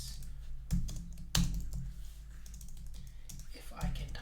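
Keys clatter on a computer keyboard in quick, uneven bursts with a few louder strokes, close and fairly quiet, while a person talks over the typing.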